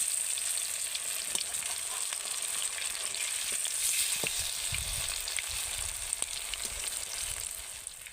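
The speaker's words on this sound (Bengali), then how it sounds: "এইভাবে উল্টে পাল্টে বড়াগুলোকে মুচমুচে করে ভেজে নিতে হবে" Spinach and potato fritters frying in oil produce a soft, even hiss of oil with scattered small crackles and occasional low bumps as they are turned.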